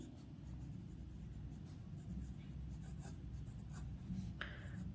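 A pen scratches across paper in short strokes while a circle-tangent construction is written out for a class 10 math lesson, faint and close, with a soft background hiss.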